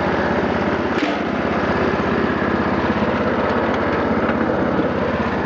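Small Massey Ferguson 14 lawn mower engine running steadily up close, a continuous buzzy drone with a brief bump near the start and no talking over it.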